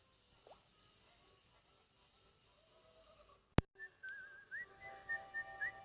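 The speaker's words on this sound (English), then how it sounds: "I'll play the whistle now" Miss Philly's so-called hacker whistle: after a quiet, faint stretch and a sharp click, a thin wavering melodic whistle begins in short repeated notes, fairly soft.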